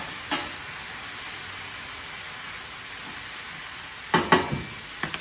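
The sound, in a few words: mock duck frying in a pan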